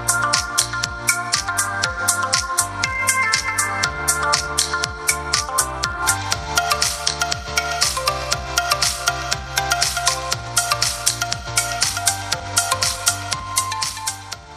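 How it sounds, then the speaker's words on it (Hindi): Music with a steady beat plays continuously, thin and tinny, leaking out of Hammer Bash 2.0 Bluetooth headphones, with no talking over it. "हेडफोन में बाहर काफ़ी ज़्यादा आवाज़ सुनने के लिए मिल रही है"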